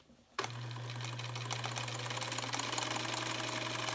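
Sewing machine starting up and running steadily while stitching, a loud continuous whirring hum with rapid rhythmic clatter of the needle mechanism.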